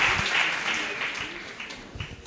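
Church congregation clapping together in a steady, dense patter of applause that stays fairly even and close for a couple of seconds.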